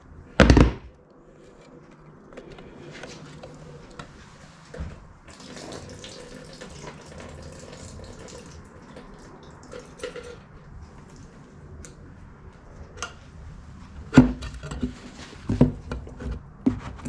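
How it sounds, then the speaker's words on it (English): Leftover water is dumped out of a coolant filter from a 1993 Ford Ranger, coming as a sudden splash at the start, faint trickling in between, then a few more sharp splashes near the end. "let me go ahead and dump the excess water out of here"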